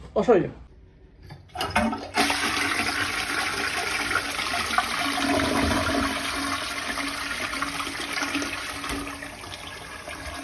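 A household toilet flushes nearby, a sudden rushing gush of water settling into a steady, loud swirl and refill that runs for about eight seconds after a brief quiet start.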